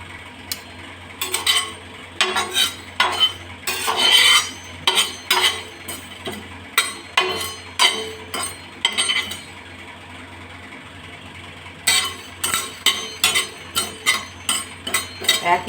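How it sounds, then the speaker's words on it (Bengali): Dry chilli, cardamom, cloves, cinnamon and black pepper are stirred in a pan over a gas flame, giving repeated metallic scraping and clinking strokes in bursts, with a pause midway before the rhythmic stirring resumes. "আমি গ্যাসের ফ্লেমে এটা এক মিনিট নাড়াচাড়া করে নেবো"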